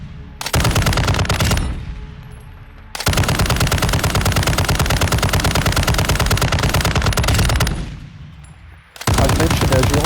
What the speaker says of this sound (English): So, this is one of my favorite light machine guns, and it still is.